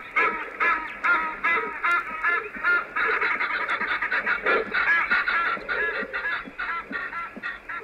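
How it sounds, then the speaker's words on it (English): An Egyptian goose at a safari watering pool honks angrily at wading buffalo, a loud, close run of rapid, rhythmic honking calls that carries on with little pause and no other sound. "That's the Egyptian goose angrily warning the buffalo away from his particular corner of the pool"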